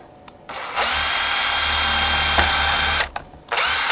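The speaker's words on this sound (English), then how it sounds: "drill again above it" A power drill runs loud and close, boring into a frame for a butterfly-and-frame ensemble, with one steady run of about two and a half seconds and a brief second burst at the end.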